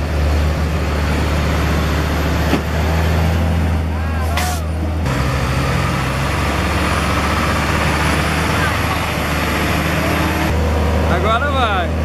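Heavy truck engine labouring while towing another truck, a loud steady low rumble with hissing bursts like air brakes, close by, with voices talking over it.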